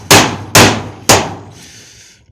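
A hammer strikes corrugated sheet-metal roofing on a hangar three times at an even pace, each blow a sharp, loud, close metallic clang that rings out and fades before the next.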